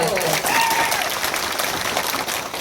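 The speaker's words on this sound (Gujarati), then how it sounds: "જોરદાર તાળી વગાડો" Applause from a crowd at an Aam Aadmi Party village political meeting, a dense, sustained clapping that fills the whole short stretch, loud and close, with a voice faintly audible beneath it.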